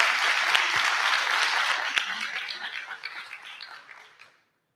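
A conference session audience at the IFSS 50th anniversary event in Chile applauds, a dense burst of many hands clapping that thins out and fades to silence over nearly five seconds.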